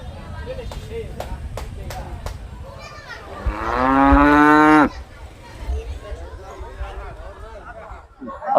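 A large cow at a busy cattle market before Eid gives one long, loud, drawn-out moo. Crowd chatter and market bustle fill the air before and after the call.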